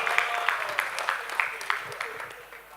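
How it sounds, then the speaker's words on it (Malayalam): An audience at a State Bank of India pensioners and retirees association conference in Kerala applauds with steady, dense clapping, fairly faint and distant, fading slightly toward the end. "ഇവിടെ കൈയടിക്കുക കേട്ടാ"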